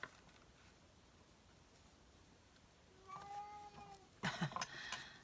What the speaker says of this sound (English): My kitty cat's talking.